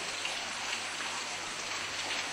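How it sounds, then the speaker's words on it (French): Steady, dense rushing and trickling of rainwater running down inside a mountain cave, an even wash of water noise with no pauses or distinct drops standing out. "Ils suivent le ruissellement de l'eau de pluie jusqu'au cœur de la montagne."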